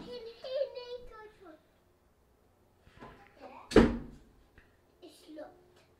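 A door is banged once, hard and close, a single sharp slam with a brief rumble after it, set between bits of casual talk.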